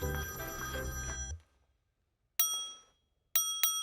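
A telephone bell rings in short bursts, first trailing off a loud tonal passage, then sounding alone twice more after a pause of silence, bright and clear at close range.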